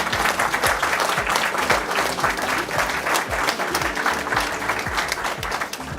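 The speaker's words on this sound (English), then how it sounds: "I think you deserve a round of applause." Dense, loud applause from a studio audience at a talk show, steady clapping filling the whole stretch without a break.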